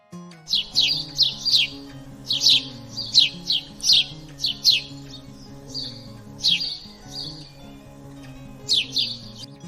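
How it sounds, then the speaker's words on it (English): Bright, rapid bird chirps repeat in quick bursts, pausing briefly between phrases, over a quiet musical backdrop. "Bird"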